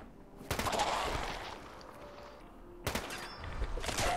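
Gunfire from the video game Fallout 4 comes as two separate volleys of loud, rapid shots, each a burst of cracks that trails off, with a quieter stretch between them.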